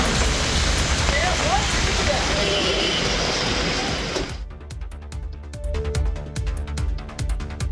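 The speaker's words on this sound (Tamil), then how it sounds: "மாலையில் கருமேகங்கள் சூழ்ந்து கனமழை கொட்டி தீர்த்தது" Heavy evening rain pours down in a dense, loud, continuous hiss that fills the first few seconds, then gives way to lighter scattered drops and pattering splashes.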